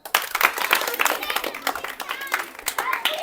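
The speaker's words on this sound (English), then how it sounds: "Big clap, Rajan." A small group claps at a classroom group-discussion debate, with sharp uneven hand claps close by and voices talking over them.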